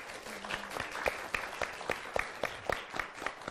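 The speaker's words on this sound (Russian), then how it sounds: "Ваши бурные аплодисменты!" Audience applause at a cultural meeting on design and fashion, a sustained crowd clapping with distinct louder claps in a roughly regular rhythm, moderately close.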